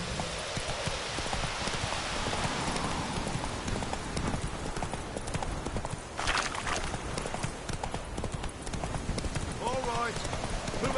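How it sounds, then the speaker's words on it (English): Horse hooves clip-clop steadily in a PS4 video game, mid-loud, with rain in the background and a person talking over it. "Whoa there, Roach."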